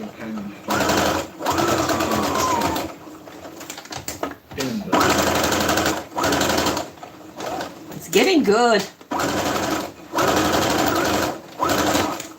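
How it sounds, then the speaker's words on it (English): A sewing machine whirs loudly in repeated bursts with short pauses between runs, while a voice speaks briefly in one gap. "Why's my sewing machine have to be so loud?"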